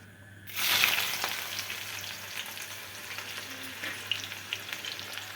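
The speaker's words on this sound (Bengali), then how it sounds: "তারপরে গোটা গরম মশলা একটু দিয়ে দেবো।" Whole garam masala drops into hot oil in a pan for a goat-meat curry, bursting into a sudden crackling sizzle that then settles into a steady, close frying hiss with scattered pops and a low background hum.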